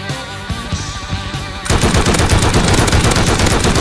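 Rapid automatic gunfire rings out in the survival game Rust. It starts with a few lighter shots and then becomes a loud, dense burst that runs unbroken to the end.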